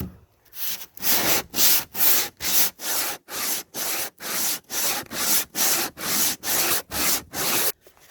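Hand sanding of a wooden deck to smooth it out: about fourteen rhythmic back-and-forth rasping strokes, steady and evenly spaced, close and fairly loud with no talking.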